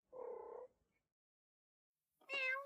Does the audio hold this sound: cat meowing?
yes